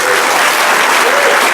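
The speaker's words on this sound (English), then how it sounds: "How about a big round of applause for our panel?" Audience applause for a panel at a live tech conference podcast recording, loud continuous clapping from a large crowd filling the whole moment without pause.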